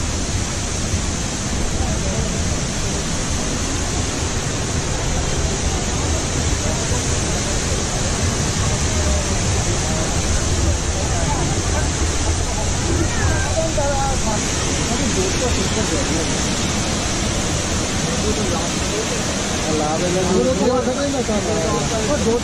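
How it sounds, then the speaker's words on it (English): A waterfall in the Dediapada forest of Gujarat during mild monsoon rain showers gives a steady, loud broadband rush of falling water that stays constant throughout, with no voices. "witnessing the Chennai waterfall in mild rain showers"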